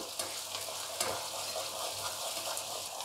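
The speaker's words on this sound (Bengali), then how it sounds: "এগুলো একটু ভাজা ভাজা হবে" Gentle frying sizzle of onion, ginger, garlic and green chilli in a pan with occasional stirring scrapes, steady and fairly quiet throughout.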